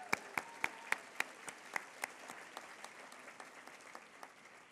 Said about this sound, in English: Let's applaud again for him.